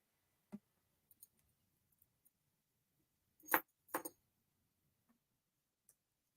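Four vintage skeleton keys, each about 3 inches long, jangle in two quick close bursts a moment apart, with faint scattered clicks before and after in an otherwise quiet room.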